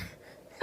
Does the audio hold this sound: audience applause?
no